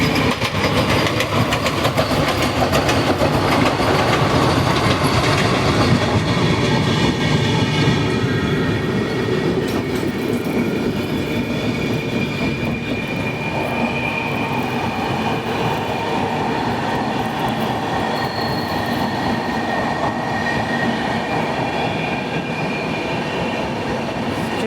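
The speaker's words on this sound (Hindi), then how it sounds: "ये आ गई हावड़ा रांची वंदे भारत एक्सप्रेस।" The Howrah–Ranchi Vande Bharat Express passes close by in a long, loud, continuous roar of wheels and rails with faint clickety-clack and some squeal, steady throughout without talk.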